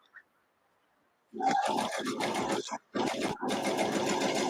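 A sewing machine with a quarter-inch foot pieces quilting fabric, starting after a quiet pause and running in a loud, steady mechanical whir with a brief stop and restart near the end.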